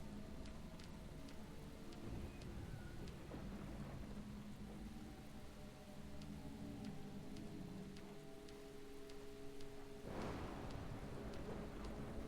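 Steady rain hiss in the video game Deadly Premonition, a continuous wash of falling rain with a rumble of distant thunder swelling near the end, with no talking.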